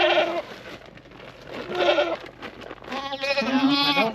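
Goats on an off-grid mountain homestead bleat repeatedly, several wavering calls overlapping at close range, loud and clear against a quiet outdoor background.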